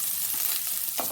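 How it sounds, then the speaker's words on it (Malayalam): Onions dropped into hot oil that has already browned in a pan, for a leafy thoran, give a steady close sizzle and hiss, with a brief louder crackle near the end and no talking. "നമുക്ക് ഇതിലേക്ക് ഉള്ളി ഇട്ട് കൊടുക്കാം"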